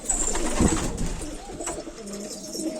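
A male çakmaklı alaca posta pigeon coos nearby, a few soft throaty calls rising over faint background noise, with no talking.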